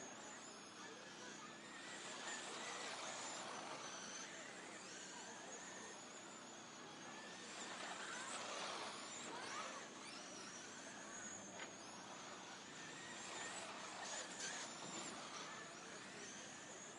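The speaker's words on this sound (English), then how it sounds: "Let's get a little sight and sounds of the hot rods as they come in to your front living room." Hot rod race cars roar around a racetrack, a continuous loud engine drone that swells and fades as the cars pass.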